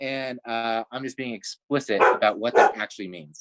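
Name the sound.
dog barking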